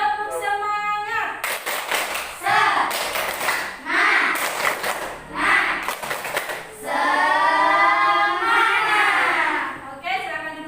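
A classroom of children stands and performs the rhythmic 'tepuk semangat' spirit clap, with bursts of patterned hand claps broken by short pauses and mixed with loud chanting and shouting voices close by.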